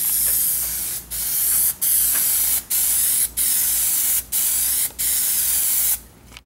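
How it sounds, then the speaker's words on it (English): PlastiDip rubber coating sprayed from an aerosol can over primer on an aluminum panel: six or seven steady hissing bursts, each about a second long, with short gaps between, loud and close. "Alright, this is going to be our second coat of PlastiDip over the primer."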